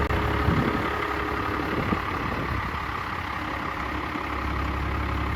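A 1997 12-valve diesel pickup truck engine idling with a little haze at idle, a steady, loud, low rumble close by that continues without a break and without talk.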